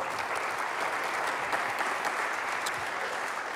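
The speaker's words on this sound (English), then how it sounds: "Round of applause for those folks" Audience applause at a Mesa morning business show thanking sponsors, a steady even wash of many hands clapping throughout, moderately loud and close, with no voices over it.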